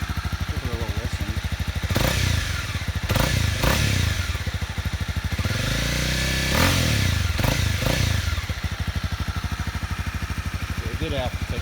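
A 1985 Honda Nighthawk 650 motorcycle engine runs with a fast, even idle pulse, rising in a few revs and settling back, close and loud, with a voice talking over it in places.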